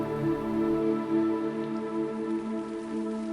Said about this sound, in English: in the peak of a monsoon downpour